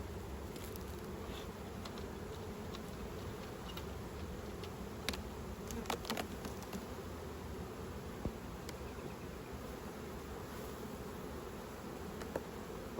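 Honey bees buzz steadily around an open beehive full of heavy honey supers during autumn beekeeping in the Orara Valley, a continuous close droning hum with occasional faint clicks and knocks over it.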